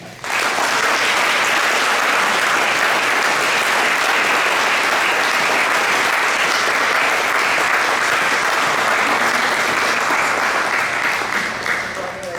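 An audience claps and cheers to congratulate a student at a board of education meeting, steady loud applause filling the room from start to finish.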